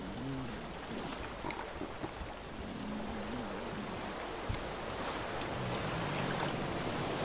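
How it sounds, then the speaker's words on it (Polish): Ocean waves in the survival video game Raft swell and wash steadily around the floating raft, a continuous broadband surge with no distinct breaks and no talking. "Oho, zaczęły się większe te fale."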